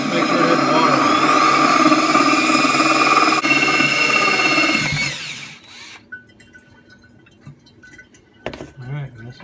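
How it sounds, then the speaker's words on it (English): A high-pitched drill cutting glass with water whines steadily for several seconds with a wet, grinding edge, then cuts out, leaving faint clinks and a brief thump. "just the weight of the drill is all it needs. Just make sure it has water on it"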